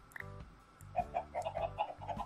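Several chickens in a video game cluck in short, bouncy bursts, close by and clear, with a low mechanical hum underneath and no talking.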